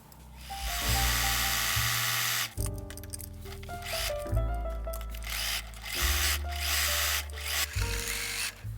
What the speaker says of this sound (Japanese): 袖下から脇を縫おう。